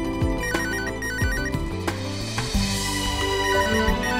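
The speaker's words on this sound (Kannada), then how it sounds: "ಯಾರು ಫೋನ್ ನೋಡು" A telephone rings in a home during a family meal: a melodic electronic ringtone plays in repeating phrases, loud and close, with no one speaking over it.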